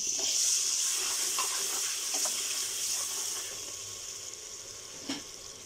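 Water poured into a pan of frying masala with tomatoes and coriander powder for a chana curry, giving a steady loud hiss and sizzle that gradually settles, with a faint clink near the end.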